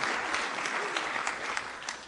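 Sustained applause from an audience at the White House, a dense, steady wash of many hands clapping at fairly close range for about two seconds, with no talk over it.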